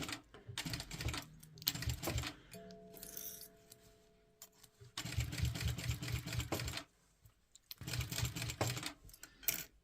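A sewing machine stitching the quilted pieces of a hot water bottle cover runs in several quick, close rattling bursts, with short pauses and a quieter humming stretch between them.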